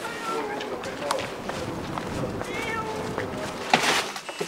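A rescued stray kitten mews in short bursts during an animal rescue, heard against a busy background of people talking, movement and footsteps.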